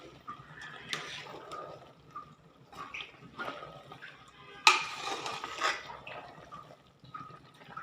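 A spoon stirs carrot halwa with added cream in a metal pot, producing intermittent scrapes and clinks against the pot's sides, with one sharper knock midway; quiet and close, with no talking.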